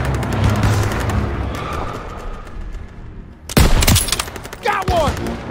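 Gunfire in Call of Duty: World at War during a sniper mission, heard as a background din of battle followed by sharp, loud close shots. Shouted soldier voices and game dialogue run over the shooting.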